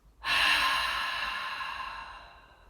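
A single long, soft exhale during a core breathing exercise: a breathy rush of air that starts abruptly, then slowly fades over about two seconds, close and alone.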